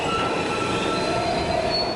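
A New York subway train screeches through an underground tunnel, a loud sustained metallic squeal of wheels over a rumbling rail roar, with no voices.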